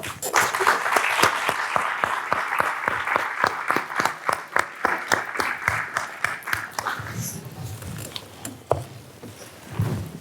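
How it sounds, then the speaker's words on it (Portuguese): Audience at a poetry reading clapping for a reciter, loud rhythmic unison clapping at first, then thinning into scattered claps as the applause fades. "Uma salva de palmas,"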